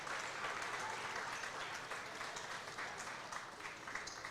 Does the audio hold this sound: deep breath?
no